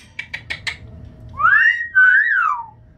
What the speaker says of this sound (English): We whistled at the same time.